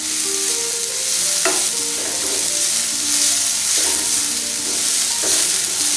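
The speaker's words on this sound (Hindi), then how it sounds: "अब हम सब्जियों को मिक्स कर लेंगे।" Mixed vegetables fry with tomatoes in a pan as they are stirred for a vegetable mushroom soup, a loud, close, continuous sizzle broken by a few sharp scraping strokes, with tonal music running underneath.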